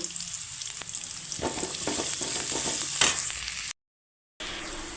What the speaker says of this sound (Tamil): அது சேர்த்துக்கலாம் சேர்த்து நல்லா வதக்கி விடுங்க